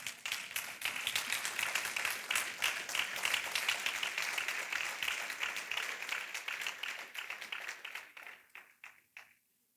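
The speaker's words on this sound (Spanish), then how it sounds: "Aquí donde la gente aplaude" A church congregation claps together in sustained applause, a dense wash of hands that holds steady for several seconds before thinning to a few scattered claps and fading out.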